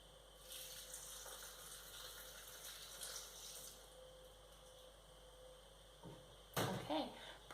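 Water, 3.5 ounces, is poured into a Thermomix bowl, a faint steady trickling for several seconds, followed by a few soft clunks of the bowl or lid.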